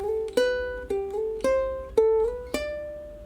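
Fingerstyle ukulele filler from Here I Am to Worship: about six bright plucked notes and sliding notes in quick succession, close and clear with no talking.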